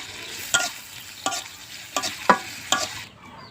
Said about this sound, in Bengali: তেল গরম হওয়া সেটার মধ্যে দেবো তেজপাতা দেবো তেজপাতা গরম মশলা দেবো গোলমরিচ গোটা জিরে আলাদা করে আনা ভাজে নেব